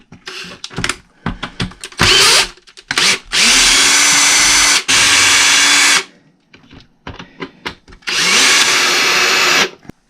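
A power tool backs out the 3mm motor bolts on a Traxxas X-Maxx RC truck, whirring in several loud, close bursts of a few seconds each, with small clicks and handling noises between them.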